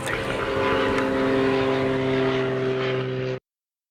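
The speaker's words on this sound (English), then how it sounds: "Now you can hear the airplane." A propeller airplane drones overhead in a steady, loud hum that holds evenly and then cuts off abruptly.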